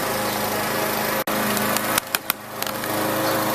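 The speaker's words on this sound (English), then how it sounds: "You can hear my neighbor mowing his lawn." A neighbor's lawn mower drones steadily in the near distance, its engine hum continuous and fairly loud, broken by a few sharp clicks and knocks nearby.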